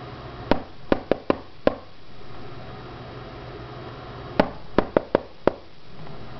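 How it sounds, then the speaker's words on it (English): Two rounds of a secret knock pattern rapped on a knock-sensing lock, five crisp close knocks, a pause of a few seconds, then another quick five-knock sequence, over faint background hiss. "if I do the secret knock, let's see if I get it right this time."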